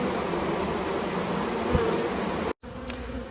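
Honey bees, a mix of golden Italians and local feral bees far from their hive, hum in a steady close buzz, with one brief dropout near the end before the drone resumes.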